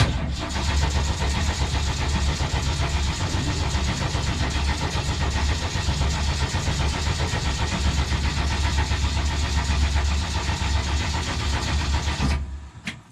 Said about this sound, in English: we'll see if this thing's gonna crank up